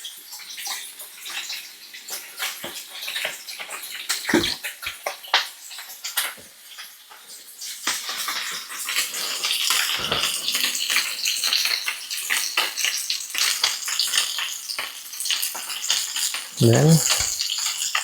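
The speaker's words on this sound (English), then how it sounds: "I have to wash my hands again" Hands are washed under a running kitchen tap, with irregular splashing and patters of water that grow fuller and steadier midway, while a voice speaks briefly.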